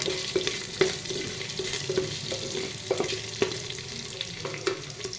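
Green chillies fry in oil in a pan for soybean biryani, a close, steady sizzle punctuated by repeated sharp utensil taps and scrapes against the pan, with no talking.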